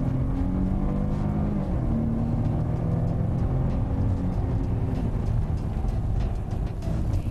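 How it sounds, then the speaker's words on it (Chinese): A Mercedes AMG saloon with a 7-speed gearbox and 19-inch wheels accelerates hard at full throttle, heard from inside as a steady, loud engine rumble with tire roar that holds throughout. "然后我重踩油门"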